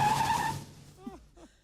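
A car skids off with a high tire squeal in the first half second, then fades quickly, and voices follow under the tail of the noise.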